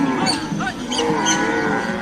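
A herd of Dinka cattle lows at a cattle camp, several overlapping moos rising and falling over a steady ambient wash, with no one talking.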